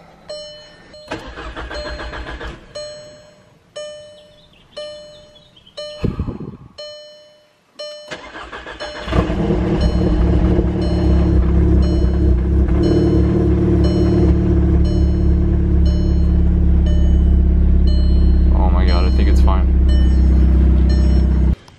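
A Volkswagen MK6 Golf R engine, just refitted with cat cams, cranks several times in short bursts, then catches and settles into a loud, steady running rumble close by, with a voice briefly heard.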